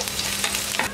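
Finely chopped ginger and garlic sautéing in a little oil for a squid roast, a steady close sizzle with scraping stir strokes across the pan, no voices.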